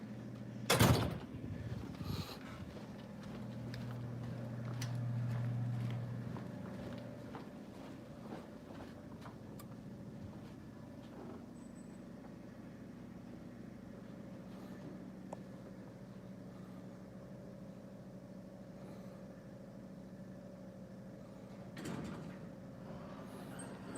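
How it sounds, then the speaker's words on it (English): Hotel elevator doors slide with a sharp bump at the start, then a long steady low hum of the car riding, with a second faint thump near the end and no talk. "we will go ride the elevator"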